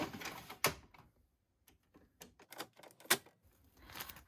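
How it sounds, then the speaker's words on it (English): A paper tray is pulled out of a home printer, giving a run of plastic clicks and rattling slides, several sharp close knocks spaced over a few seconds, with no talking. "So to do that, we're going to pull out the tray."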